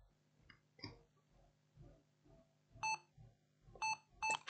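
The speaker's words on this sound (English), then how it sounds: "We have the beeping sound." Lenovo ThinkPad Yoga 11e laptop beeping at power-on after a BIOS reset, with a short run of sharp electronic beeps toward the end over faint background noise and bumps.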